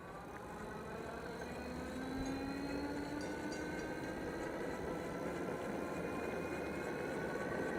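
A Blix Sol X electric bike runs at full throttle in tour mode, giving a steady, continuous motor whine and road rumble mixed with strong wind buffeting throughout, fairly quiet overall with no speech.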